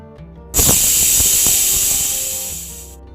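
A pressure cooker on medium gas, cooking whole masoor lentils, lets out a sudden loud whistle of hissing steam that holds steady for about two and a half seconds before cutting off.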